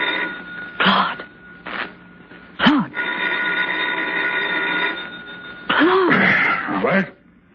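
A telephone in a suspense radio drama rings in repeated bursts, its steady electric bell tone sustained between rings, with a voice breaking in briefly and other sounds overlapping near the end.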